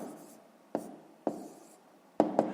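A pen writing a fraction on paper, a few soft scratchy strokes with sharp taps at the start of each, close and quiet, no voices.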